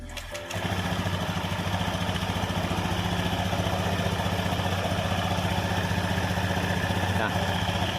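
An automatic scooter with a loss of power starts up with a brief crank, then settles into a steady, loud, close idle that runs unbroken to the end.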